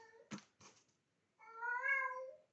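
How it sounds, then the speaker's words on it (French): A house cat meows indoors, a couple of short sharp calls followed by one longer drawn-out meow, close and faint with no talk. "j'ai un de mes chats, je sais pas ce qui lui arrive"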